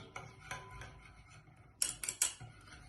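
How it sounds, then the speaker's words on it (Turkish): Oil and powdered sugar stirred in a bowl for apple cookies, giving soft scraping and a few sharper utensil clinks against the bowl, close and fairly quiet. "bu şekilde yavaş yavaş karıştırmaya devam ediyorum"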